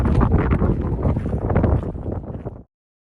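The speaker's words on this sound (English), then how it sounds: "it's very windy down here" Strong gale buffeting the microphone on a rugged coastline, a loud, continuous roaring rush that cuts off abruptly near the end.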